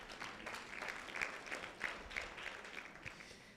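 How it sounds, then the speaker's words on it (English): An audience claps for itself at a Limuru Girls School alumni breakfast meeting. Many hands patter fairly faintly and steadily for several seconds, with a few louder bursts of clapping. "let us clap for ourselves"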